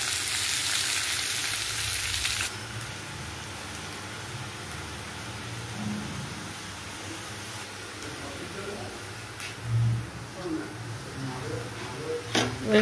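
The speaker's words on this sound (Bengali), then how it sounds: "একটু ভালো করে ভেজে নেব।" Ingredients for a rohu fish curry with potato and pointed gourd fried in a pan in a village kitchen, a loud hissing sizzle at first that settles into a softer steady crackle, with occasional stirring knocks.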